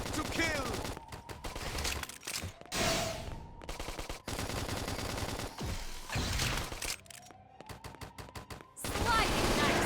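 Rapid gunfire bursts from the Xenoblade Chronicles X video game, loud and dense, with repeated volleys and fusillades mixed with game effects and music through most of the stretch, under brief voice snippets.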